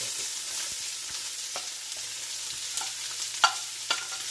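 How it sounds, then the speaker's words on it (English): Finely chopped onion frying in oil for a mutton biryani, a steady soft sizzle with occasional light stirring clicks and scrapes, close and fairly quiet with no talking. "add the 2 finely chopped onion to the oil"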